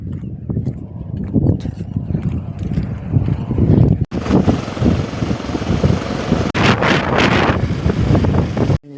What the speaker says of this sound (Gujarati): આજ મિત્રો પવન ફૂલ છે